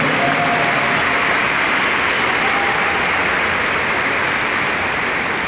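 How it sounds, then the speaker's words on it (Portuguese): Loud, dense applause from a large crowd at a military school graduation ceremony, a continuous wash of clapping that holds steady throughout without a break. "Um forte aplauso, senhoras e senhores."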